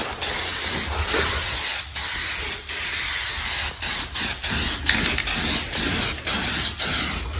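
A light coat of spray paint going onto a degreased, masked-off part of a John Deere D140 lawn tractor, heard as close, loud aerosol hissing in repeated bursts separated by short pauses.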